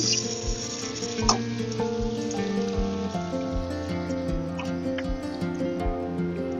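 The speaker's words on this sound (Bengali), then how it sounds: "পেঁয়াজ কুচনো লাল করে ভেজে নেব" Chopped onions frying in hot oil for a fish curry, a steady close sizzle and crackle with occasional sharp pops and stirring clicks, no voices.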